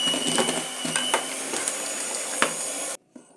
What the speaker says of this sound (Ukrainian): Збиваємо то все до однорідної маси.